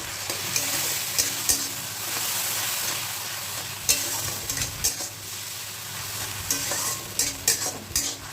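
Ginger, green chilli and tomato masala frying in a pan, a steady close sizzle broken by repeated scrapes and knocks of a spoon stirring through it, with no talk.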